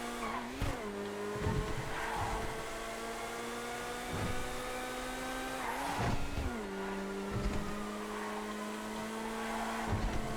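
Race car engine in the GTA FiveM driving game, droning steadily through a lap with pitch dips and climbs at gear changes and corners, loud and continuous with no talking.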